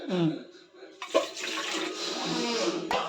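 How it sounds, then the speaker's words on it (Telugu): Water pours into idli batter for Andhra-style idli, a steady splashing stream that swells after a moment, runs for about two seconds, then stops abruptly. "ఇప్పుడు మనకి వాటర్ వేయాలి."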